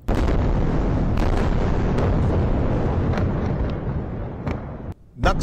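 Loud, continuous rumbling explosions over Gaza City, a dense roar with repeated sharp blasts and bursts throughout, close and overwhelming.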